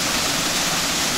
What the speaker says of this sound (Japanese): 黒山三滝小滝目滝です。 あちらが小滝です。 こちらが目滝になります